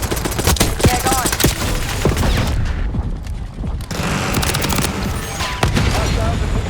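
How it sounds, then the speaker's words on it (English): Dense automatic gunfire and explosions in Black Ops 6 multiplayer hardpoint mode, loud and continuous with bursts, booms and mechanical clatter throughout, a brief lull midway, and in-game radio voice callouts over the top. "Taking effective fire."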